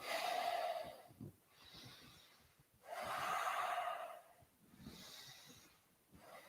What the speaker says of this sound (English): move with your breath, inhaling up and exhaling down